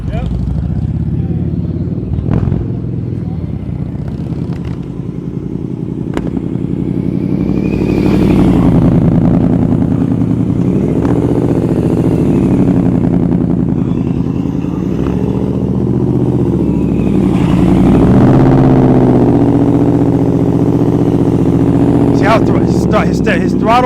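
A motorcycle engine idles and putters at a steady low throttle during slow-speed riding practice around cones, a continuous near drone with slight swells in pitch and occasional clatter, heard under a coach's voice.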